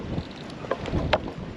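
Gusty wind on a sailboat rumbles and buffets the microphone in a steady low roar, with a few soft knocks and creaks poking through.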